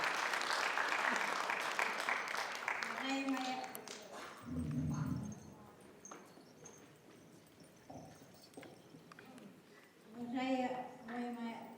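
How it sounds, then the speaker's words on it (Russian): An audience at an anniversary gala evening applauds warmly, with a dense burst of clapping that fades after a few seconds. A presenter then speaks into a microphone. "Встречаем тепло, аплодисментами"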